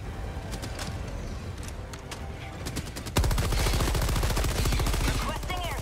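Gunfire from a weapon in Helldivers: scattered single shots at first, then a loud, sustained rapid burst of automatic fire hammering on for several seconds, with talk mixed in.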